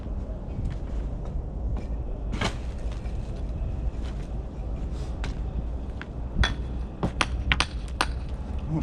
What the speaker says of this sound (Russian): Сейчас я молоточком подправлю.